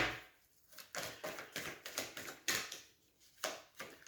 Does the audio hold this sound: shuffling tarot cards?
yes